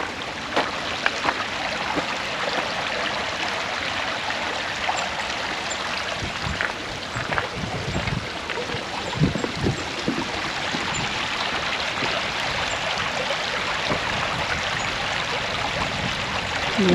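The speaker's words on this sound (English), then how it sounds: "I love the sound of water." A creek flows beneath a footbridge at a wildflower preserve, producing a steady, close rushing and trickling of water that fills the whole stretch with no voices.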